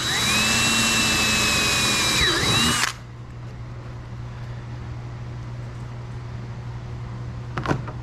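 A power drill bores a hole to mount General XP 1000 mud flaps, a loud high whine lasting about three seconds before cutting off, leaving a low steady hum with a brief click near the end.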